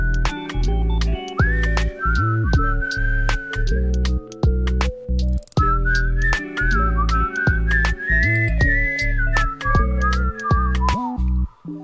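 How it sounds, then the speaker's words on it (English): A melodic whistled line carries the tune of a pop song, sustained and gliding over steady layered instrumental backing, prominent and continuous throughout with brief dips between phrases. "I like to pretend I whistle that part."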